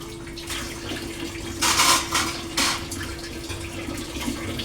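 Water runs from a tap with soft rushing and a few louder splashing bursts as dishes are scrubbed and rinsed, steady and fairly close, with no one speaking.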